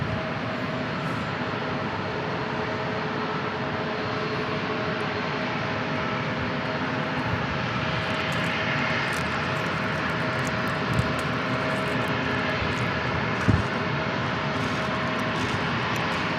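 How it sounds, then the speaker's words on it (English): An airliner arriving from Los Angeles lands at San Diego International Airport, its engines a steady, loud, continuous roar that holds for the whole stretch, with a couple of faint knocks and no voices. "Flight 4001 from LAX, from Los Angeles, right along the coast. And landing."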